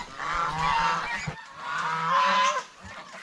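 Domestic ducks give two loud bursts of harsh, honking calls close by, with a short pause between them and no voices.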